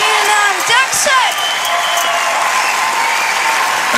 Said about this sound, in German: Glasperlenspiel, meine Damen und Herren. Euer Applaus